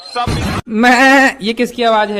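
A man on stage at a Hindi comedy show imitates a goat's bleat with a drawn-out, wavering voice. The loud, close call comes just after a brief spoken question.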